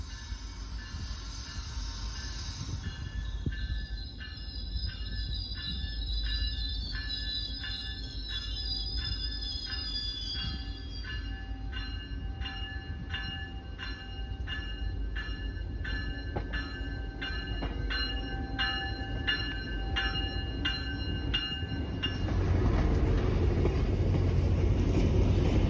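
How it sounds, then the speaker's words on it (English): An MBTA commuter train, number 2106, rolls out of Rockport station past a freight house, its wheels and cars giving a steady rumble with sustained high squealing tones, then the passing noise swells louder near the end. "Here comes inbound 2106 cruising out of the station"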